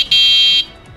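A homemade vehicle built by a village boy sounds its horn in one loud, steady electric beep lasting about half a second, close to the listener.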